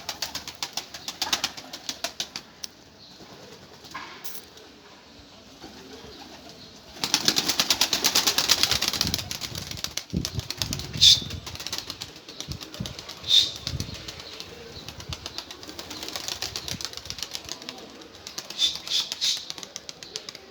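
Mardin pigeons in a coop flap their wings in loud, close bursts, including one long flurry, between quieter rustling and soft coos.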